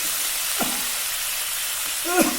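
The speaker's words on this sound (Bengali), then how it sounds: "এবং অল্প পরিমাণে জল দিয়ে ভালো করে নেড়ে ছেড়ে একটু কষে নেওয়া হবে" Curry masala for a catla fish curry is stirred and fried with a little water in a pan, a steady sizzle and hiss with a couple of soft scraping strokes from the spoon.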